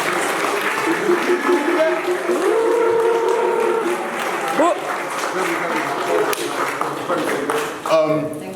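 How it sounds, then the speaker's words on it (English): A crowd at a battle-rap event claps and cheers steadily throughout, a dense wash of applause with voices mixed in, rising briefly near the end. "please just give them both a round of applause"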